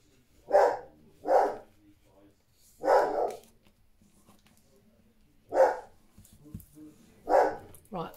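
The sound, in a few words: dog barking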